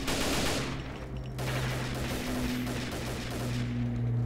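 Gunfire in the video game Combat Arms, a steady close rattle of rapid shots over a low droning game background, with no talk.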